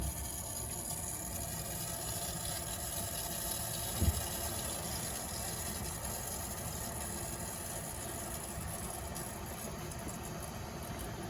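Water runs steadily after the cold side of a mixing valve is turned on, a constant low hiss and rush with one faint knock partway through.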